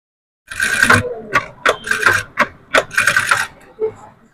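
A sewing machine stitches fabric in short, close bursts of clattering mechanical whirring, separated by brief pauses and ending with a small click.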